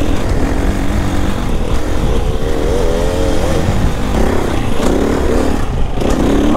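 A 350 four-stroke dirt bike engine, with a loud steady drone close by and rising and falling revs from passing bikes, the engine note wavering over constant rumble.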